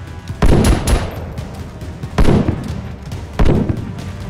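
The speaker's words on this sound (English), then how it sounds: "Shooting back." Gunfire in the game DayZ comes in three loud, close bursts of rapid shots spaced about a second and a half apart, with quieter ambient noise between them.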